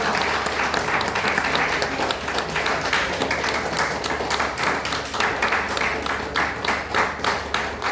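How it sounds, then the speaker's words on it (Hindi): An audience applauds steadily and loudly, with dense continuous clapping and no pause. "ताली बजाएंगे।"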